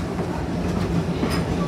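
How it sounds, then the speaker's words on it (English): Busch Gardens Tampa park train running on rails, a close, steady rumble with rhythmic clickety-clack of wheels and a faint squeal, no talking. "This train will not be returning back to the Congo station."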